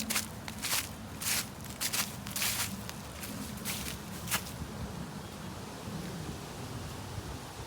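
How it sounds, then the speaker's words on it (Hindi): Footsteps crunch on dry fallen autumn leaves outdoors, a series of close irregular crisp crackles for about four seconds, then softer rustling under a breezy background. "क्रंच क्रंच आवाज सुन रही है पत्तों की।"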